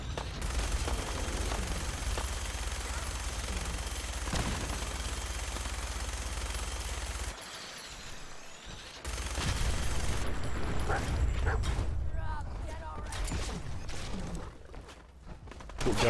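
Gunfire in the Fallout 4 video game: a sustained, dense roar of rapid shots with a brief lull, then more bursts of firing and mechanical clatter.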